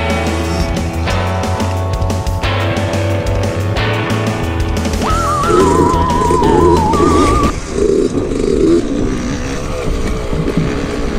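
A Yamaha YZ65 motocross bike engine runs loud and close, buzzing through several rising revs and shifts before settling into a rougher idle and putter.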